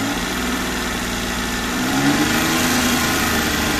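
A 2005 Daewoo Matiz with its 0.8-litre Emtech fuel-injected engine idles steadily close by, a continuous mid-pitched hum with a slight rise partway through and no talking.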